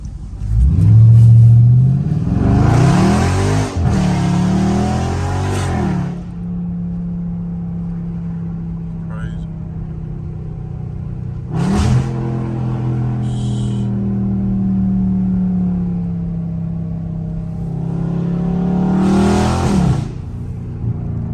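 A Dodge Charger Scat Pack V8 revs loud and close through hood-street turns, with two big rising bursts at the start and near the end and a steady droning hold between them.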